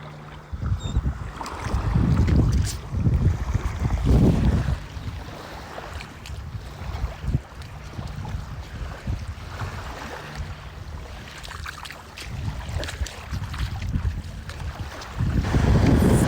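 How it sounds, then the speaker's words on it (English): Waves wash up on a beach on an early-morning shelling walk, small wet shells tumbling in the surf; a broad, steady rumble of water swells and recedes in several surges, with gusty wind buffeting the microphone throughout and no talk. "you can hear waves here, and there's some little wet shells getting washed up"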